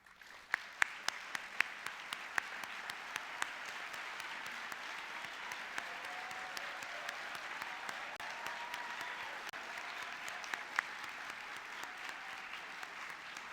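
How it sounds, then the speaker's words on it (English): A large audience at the Black Engineer of the Year Awards applauding standing honorees. Sustained, even clapping fills the hall for over ten seconds, heard at a distance, with a few sharper nearby claps at the start. "please stand so that we may applaud you"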